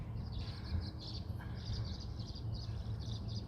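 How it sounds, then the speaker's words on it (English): Birds sing along a nature walk, their short chirping phrases repeating steadily at moderate volume over a low, constant outdoor rumble, with no voices. "Listen to those birds."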